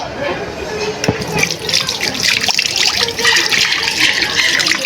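Tap water runs steadily into a sink while hands are washed before handling fish in a home kitchen, a continuous close splashing wash with a few brief knocks and no clear talk.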